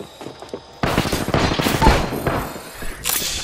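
Rapid bursts of automatic gunfire erupt in a shooter video game, loud, close crackling volleys starting abruptly after a quiet moment and continuing in dense clusters.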